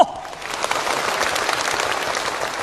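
Warm audience applause at a Cantonese opera youth performers' televised competition, a dense, steady wash of many hands clapping after a brief opening sound, sustained and fairly loud.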